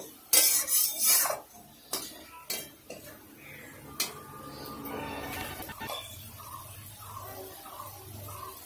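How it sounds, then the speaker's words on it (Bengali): Spoon scraping and clinking against a pan as coriander-spiced masala is stirred and fried in oil for a Bengali fish curry, with sharp metallic knocks early on, then a softer sizzle and scraping. "এবার মশলাটাকে ভালো করে কষে নেব তেল ছাড়া পর্যন্ত।"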